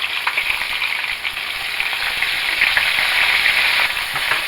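Cold frozen okra fries in hot oil for a first browning, giving a steady, dense sizzle with sharp spattering pops throughout, close and fairly loud with no talking.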